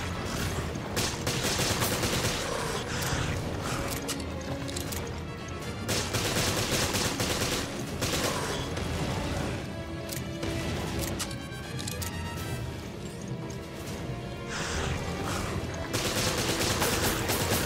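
Rapid gunfire from the video game Resident Evil, loud and dense, with bursts of shots and crashing impacts running almost continuously, broken only by brief lulls.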